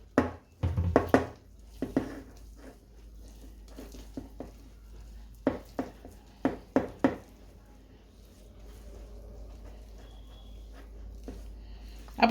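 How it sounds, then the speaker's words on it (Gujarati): Batter of salt and water being mixed by hand in a pot for stuffed chilli bhajiya, giving a scatter of sharp knocks and soft patters in bursts, close and fairly quiet over a low steady hum. "પેલા થોડુંક નાખીને ભેળવી નાખશું."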